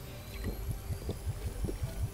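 A Fortnite character pouring a fat pot healing potion over himself, a short gurgling, splashing stream of liquid with a quick series of bubbly glugs.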